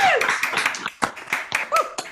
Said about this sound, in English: why don't you unmute yourself and give Lloyd a round of applause?